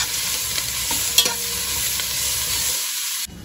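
Fresh mint and coriander leaves sauté and stir in a hot pan for a Donne biryani masala, a steady loud sizzle with occasional scraping strokes of the spoon, no talk.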